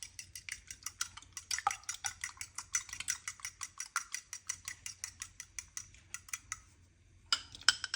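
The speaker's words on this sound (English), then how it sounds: "And I have here 2 eggs. Let me beat this up a little." A fork whisks two eggs in a bowl for a blueberry scone cake, quick rhythmic clicking strokes repeating steadily for several seconds, close and fairly quiet, then stopping before a few final taps.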